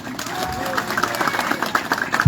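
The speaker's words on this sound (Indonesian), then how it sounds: "Kalau tepuk tangan, boleh tepuk tangan sekarang." Crowd applause at an outdoor political rally in Sumba Timur, a dense steady patter of many hands clapping for a couple of seconds without a break.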